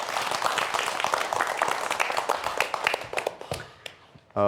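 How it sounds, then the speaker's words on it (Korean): Audience applause at a science lecture on earthquakes and volcanoes, scattered claps that are dense at first and then thin out to a few isolated ones before a voice begins at the very end. "박수 부탁드릴게요"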